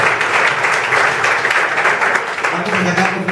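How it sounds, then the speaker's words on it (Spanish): Studio audience applause at an Argentine television show welcoming a guest, a steady dense wash of clapping throughout with a voice entering near the end. "Fuerte el aplauso."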